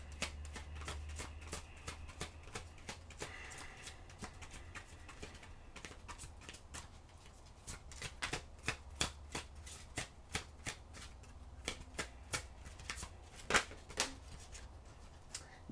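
Oracle cards are shuffled by hand in a quiet room, with soft, rapid riffling and slapping that builds into sharper snaps and flicks toward the end, fairly close and with no talking.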